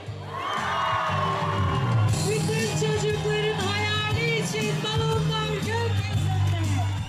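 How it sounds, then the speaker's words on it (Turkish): A large crowd at an outdoor balloon and kite festival in Turkey cheers and whoops in a continuous, loud wash of voices, with children shouting among them. "Evet, kocaman bir alkış"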